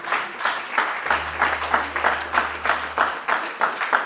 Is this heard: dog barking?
no